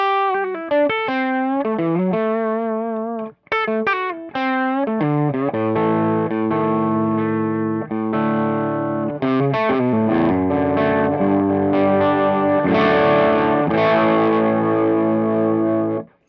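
Electric guitar played through a BuzzTone Megaplex Stage 3 amp on its normal plexi channel, volume set to 10: single notes and then full, distorted chords ring out loud and continuous, with one short pause near the start.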